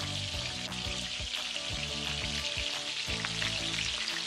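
Onion paste fries slowly on low heat for a katla fish curry, with a continuous soft, even sizzle and occasional stirring, and no voices.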